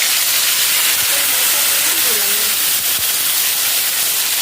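Spiced cauliflower goes into hot oil and sizzles loudly, a dense continuous hiss close up with a couple of faint knocks.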